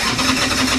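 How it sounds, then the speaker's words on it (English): A restored classic motorcycle engine fires up and runs with a dense, even mid-pitched rumble, close and steady throughout the brief moment with no talking. "this is the easiest fucking bike I think I've ever started"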